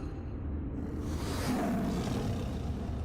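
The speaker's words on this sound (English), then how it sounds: "I heard the lion go and I was like, yeah, I'm in." A lion roars in a safari photography video game, a low rumbling roar that is steady and moderately loud for about three seconds with no talking.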